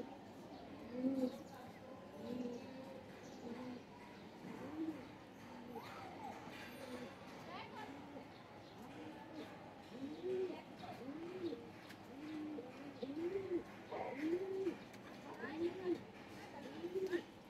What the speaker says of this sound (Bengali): এদিকটা কবুতর মুরগি